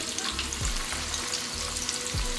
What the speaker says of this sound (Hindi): कबाबों को हमें दोनों तरफ से हल्का गोल्डन कलर आने तक के मिड हाई फ्लेम पर ही फ्राई करना है